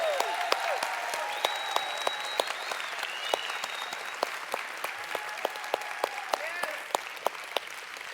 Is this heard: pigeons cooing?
no